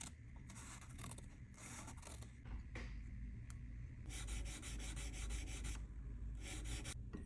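Platinum being hand-sanded with 800-grit sandpaper: repeated close rubbing and scraping strokes in short bursts, louder and denser toward the end, with no talk.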